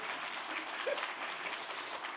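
A congregation at a church chapel service claps together, a dense even wash of applause heard from a short distance that holds steady throughout without any talking over it.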